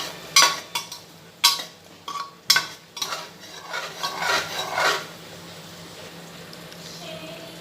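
Scraping and stirring a spice mixture with cumin powder for mutton bhuna masala in a pan, a few sharp scrapes followed by a run of steady rasping strokes that fade into a quiet sizzle.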